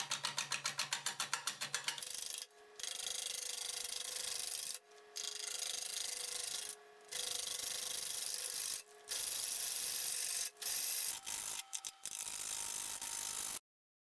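A bowl gouge cutting a rough, irregular wooden bowl blank spinning on a wood lathe at about 450 RPM gives a loud, continuous scraping roar with rapid rhythmic clatter at the start, broken by several short pauses between cuts.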